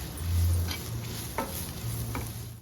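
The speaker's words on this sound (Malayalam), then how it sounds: "ഉപ്പും കൂടെ ചേർത്ത് നന്നായിട്ടൊന്ന് വഴറ്റാം" Okra sautéed with spices and salt in a pan, giving soft stirring scrapes over a faint sizzle, close and fairly quiet with no talk.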